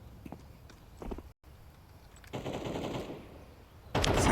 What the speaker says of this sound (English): They're going to go into the AK-47 in the hands of ZywOo.